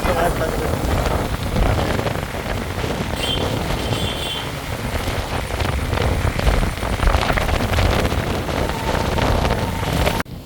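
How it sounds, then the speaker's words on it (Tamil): Heavy monsoon rain pours down in a steady, loud roar over flooded roads, close and continuous, with a voice speaking over it. "கட்டும் மழை தான் பெய்து கொண்டிருக்குது"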